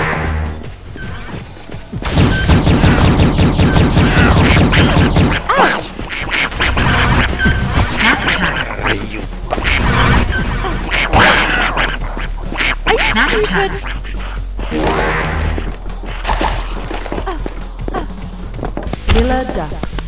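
Killer ducks in the online multiplayer game World of Padman, with quacking mixed into dense, loud game action, thumps and crashes, while players talk over the noise.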